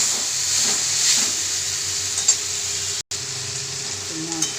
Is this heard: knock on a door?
no